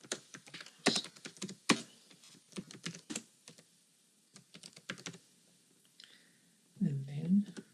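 Clacking keystrokes on a computer keyboard while code comments are typed, irregular bursts of clicks at close range, with someone speaking briefly near the end.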